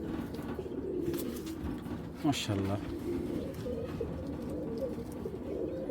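Young Giribaz pigeons coo softly at close range, a low, rolling murmur of repeated coos throughout, with someone talking over them.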